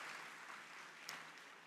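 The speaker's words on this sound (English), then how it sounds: "give yourselves a round of applause" A CPAC audience applauds in a brief, faint burst of steady clapping heard at a distance.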